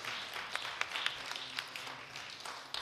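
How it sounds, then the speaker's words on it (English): Applause from an audience at an annual awards program, a short burst of scattered hand claps at moderate distance, fairly faint and uneven with distinct individual claps standing out. "Give another round of applause for their life work."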